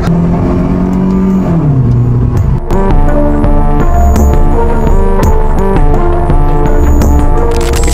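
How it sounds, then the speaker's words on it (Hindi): Tuned Toyota Corolla Indus with a swapped 1700cc engine on a stage-1 tune, revving loud and close as its exhaust throws off sharp pops and bangs between the engine notes. "Oh, pops and bang tune."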